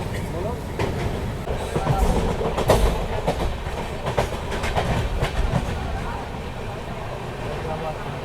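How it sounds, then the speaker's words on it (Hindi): Rumble and rhythmic clatter of the Poorva Express sleeper class coach running on rails, steady and close from inside the carriage as it overtakes another train, with people talking over it. "और यहाँ इस वक्त हम लोग ओवरटेक कर रहे हैं दिल्ली काठगोदाम उत्तरांचल संपर्क क्रांति एक्सप्रेस को"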